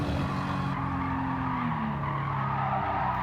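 A Toyota GR Supra RZ '20 skidding on the Fuji circuit in the racing game GT7, a continuous loud engine roar with shifting tire squeal as the car slides, steady and up close.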